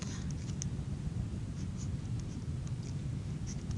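A marker or chalk scrapes across a board while a geometry diagram of a kite is labeled, a soft, continuous scratchy writing sound, close and quiet, with no voice.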